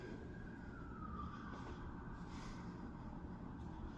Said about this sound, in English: Of course you're hearing the sirens